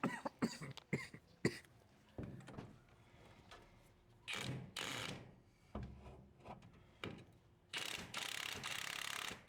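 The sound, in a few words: ratchet loosening coilover strut bolt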